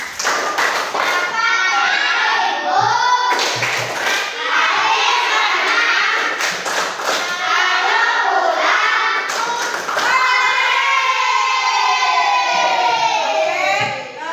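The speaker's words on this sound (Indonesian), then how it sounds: "Sekarang kita tepuk pulang dulu ya." Schoolchildren in a fifth-grade classroom chant together in a loud, continuous group voice, with rhythmic claps and thumps breaking through at intervals across the whole stretch.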